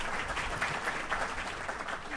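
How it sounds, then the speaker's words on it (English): Audience applause closing a panel session at a broadband workshop, a dense, steady wash of many hands clapping at even loudness throughout, with no voices over it. "If we can give them a round of applause"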